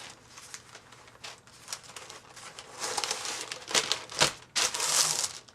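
Sheets of coffee-dyed parchment paper are folded and crinkled close up, a steady crackling rustle that grows louder and denser toward the end, with no talk over it.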